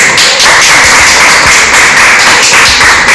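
An Indonesian school class gives a group of students a round of applause. The clapping is dense and steady and continues for the whole stretch, close and loud, with no talking.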